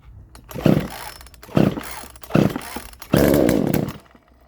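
A McCulloch CS370 chainsaw with freshly ported cylinder gets pulled over three times in short bursts, then catches and runs roughly for about a second; close and loud, no talk.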